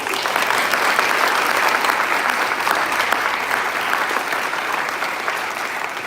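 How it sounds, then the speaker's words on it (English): Sustained applause fills a town hall audience's response for a congressional office team, a dense, even wash of many hands clapping for several seconds, tapering only slightly toward the end. "Please give them a round of applause."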